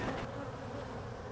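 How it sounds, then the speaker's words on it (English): A dense colony of honeybees hums inside a house wall, a steady close buzzing drone with no pauses over the short stretch. "That's a wall of bees, and the comb is running vertically, and that is a whole cover of bees."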